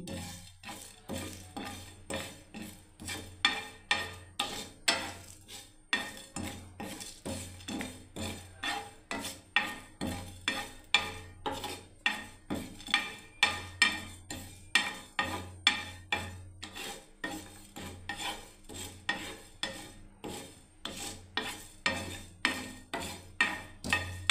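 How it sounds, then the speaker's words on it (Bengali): Whole cumin, fennel, dried red chilli, cardamom and cinnamon frying in a pan, heard as a steady run of rhythmic metal scrapes and clinks from a spatula stirring them, close and fairly loud, with no voices. "দেখুন এবার আমি এই মশলাগুলোকে ভেজে নিচ্ছি। জিরে, মৌরি, শুকনো লঙ্কা, এলাচ, আর বন্ধুরা দারচিনি।"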